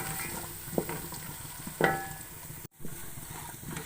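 Onion with garlic and ginger paste frying in a pan for a chicken handi gives a soft sizzle broken by a few sharp stirring scrapes, with a brief cut near the end.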